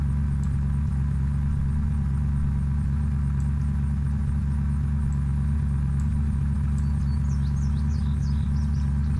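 Car in the zombie survival game Unturned, already damaged, its engine a loud, steady low rumble as it drives, with faint higher chirps late in the clip.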